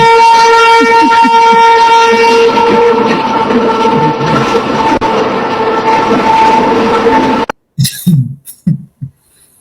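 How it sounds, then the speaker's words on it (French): An arriving train sounds a long, loud, steady horn blast over rumbling rail noise, then the horn stops abruptly and a few short clattering bursts follow. "Il s'est annoncé. Voilà le train."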